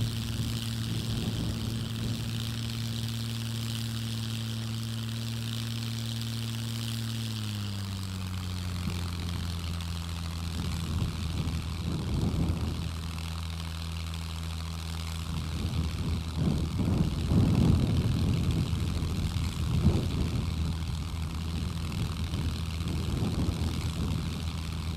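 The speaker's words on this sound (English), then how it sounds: "Let's see how long this plane can stay in the air." A propeller plane drones steadily in a survival video game, its engine hum holding a level pitch, then dropping slightly, with louder airy bursts of wind and engine noise later on.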